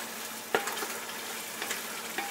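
Mushroom biryani masala sautés in a pan with a soft, steady sizzle, punctuated by a few sharp clinks and scrapes of a spatula stirring against the metal.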